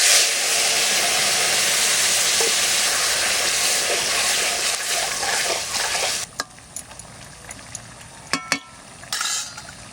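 Cumin and radhuni seeds tempering in hot oil, a loud continuous crackling sizzle that fills the first several seconds, then quiets into softer hissing broken by a few sharp clinks of a utensil.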